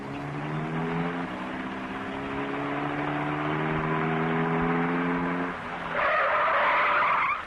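A car skids to a stop, its tires squealing in a loud, sustained tonal screech for several seconds before the sound breaks into a rougher hiss at the end. No one speaks.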